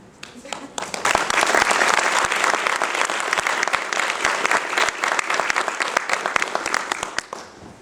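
A crowd applauding new military officers at a commissioning ceremony, with dense, sustained clapping that swells quickly, holds steady for several seconds and then tapers off, heard close and loud.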